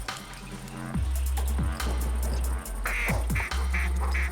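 Ducks in TheHunter hunting video game quacking in repeated bursts, several calls spaced across a few seconds, fairly close and loud over a steady low outdoor ambience.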